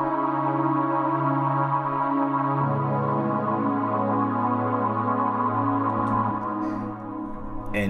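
Layered synth pads combining a Spire Pad Hamilton patch with an air strings preset, a hollow, airy chord bed with a crunchy top layer, sustained and shifting chord partway through, alone without talk.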